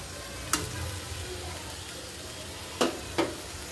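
A vegetable curry with jackfruit seeds sautés in a pan with a soft, steady sizzle, broken by three sharp spatula scrapes or clicks against the pan.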